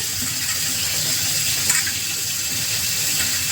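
Lentils being washed in a pot with water, several changes of water, a continuous gushing, splashing wash with a brief louder swirl partway through, no voices.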